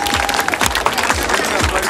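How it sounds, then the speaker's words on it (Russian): Crowd at an amateur fight event applauds the fighters after a round, dense close clapping with cheering voices mixed in. "аплодисменты нашим бойцам"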